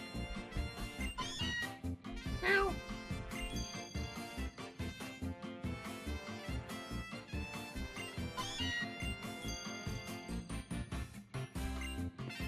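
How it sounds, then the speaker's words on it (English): A cat named Lola meowing, a short rising meow standing out briefly over busy background music from a Pokémon Ultra Sun game. "Meow to you too."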